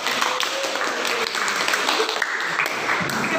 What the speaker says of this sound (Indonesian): Bagus ya, tepuk tangan dulu.